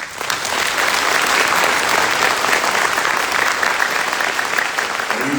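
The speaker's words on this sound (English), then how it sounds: "Please join me in a round of applause for the Commandant's list." Loud, sustained round of applause from a large audience at a drill sergeant graduation ceremony honoring the Commandant's list, dense and even from start to finish with no speech over it.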